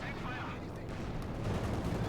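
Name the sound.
Soviet air support strafing run from video game Company of Heroes 2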